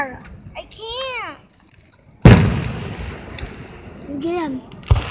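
Fireworks let off outdoors: a loud sudden bang followed by a crackling, fizzing burst, then a second sharp pop near the end, with children shouting and whooping before and between the blasts.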